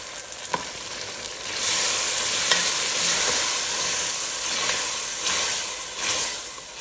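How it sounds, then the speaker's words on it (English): Half a can of beans with their aquafaba going into a pot of vegetable soup, giving a steady loud sizzling hiss with stirring scrapes and a few soft knocks throughout, no voices. "I'm just gonna add in about a half a can with some of that aquafaba."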